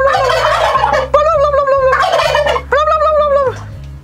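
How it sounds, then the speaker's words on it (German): Several turkeys, hens and a tom, gobble loudly and close by in rapid warbling bursts, one call after another, over a low steady hum. "Hier haben wir ein paar ängstliche Puten und ein Puter."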